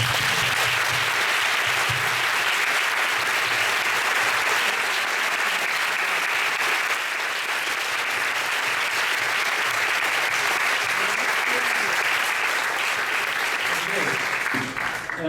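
An audience applauds after a 2013 IYPT invited speech, sustained dense clapping from a large crowd filling the hall evenly for about fifteen seconds before tapering slightly at the end.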